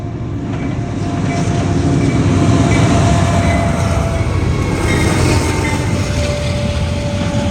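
BNSF War Bonnet 783 train rolls past a railroad crossing, a loud, close, continuous rumble and roar of wheels and cars that swells and holds steady throughout, with no talking.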